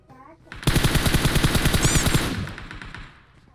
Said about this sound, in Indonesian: lagi nembak-nembakin monster kan?